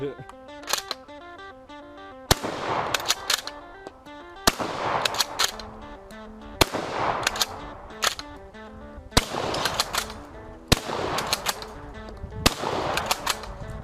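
Rifle shots from a Steyr M95 bolt-action firing 7.62x54r, seven sharp loud reports spaced a second or two apart, each ringing out over steady background music.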